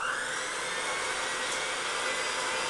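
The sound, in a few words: electric mixer mixing cream cheese potato mixture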